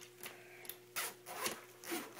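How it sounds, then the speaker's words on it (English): The zipper of a 65-gallon mesh reptarium enclosure is drawn along in several quick, rasping strokes, close and clear, with short pauses between pulls. "you have to zip it like all the way up"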